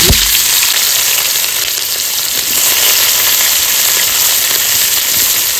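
Chopped onions frying in hot oil with bay leaves, dried red chillies, cumin and whole garam masala, a loud continuous sizzling hiss from start to finish with a brief thump at the very beginning.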